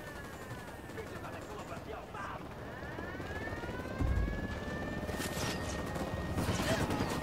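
A helicopter in a Ghost Recon game: a steady rotor drone with a sweeping whine, a muffled thump partway through, and scattered distant gunfire underneath.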